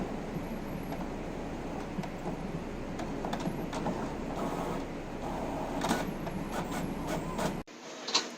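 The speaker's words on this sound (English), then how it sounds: "I'm currently printing out notes from Denver 3D Print Company." Office printer running a job of paper notes, a continuous mechanical whir with rhythmic clicks and feed noises over several seconds, cutting off abruptly near the end before a final small clack.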